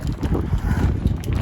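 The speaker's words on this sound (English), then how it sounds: "As you can probably hear, it's a bit windy." Loud low-pitched buffeting of wind hitting a microphone outdoors on a cold, blustery day, a continuous rumble with no speech.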